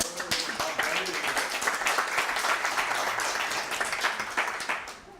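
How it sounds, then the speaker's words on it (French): Dense audience applause for a speaker at a talk about the Compostela pilgrimage, a steady broadband patter of many hands that keeps up for about five seconds and then begins to thin out. "Oui, on peut l'applaudir."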